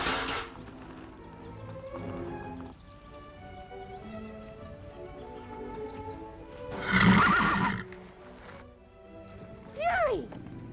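Horses neigh and whinny during a horse fight in a 1950s TV western, with a loud shrill whinny midway and another at the end over a steady background of hoofbeats and movement.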